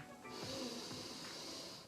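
A deep, audible inhale through the nose during a square breathing exercise, close and breathy, lasting under two seconds with a slightly snorting, wheezy edge.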